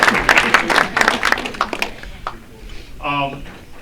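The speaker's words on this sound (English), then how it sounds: "So you should give yourself a big applause for showing up for our events." Crowd clapping at a TiE networking event in Silicon Valley: a burst of brisk applause from the attendees that fades after about two seconds, followed by a short tonal voice sound near the end.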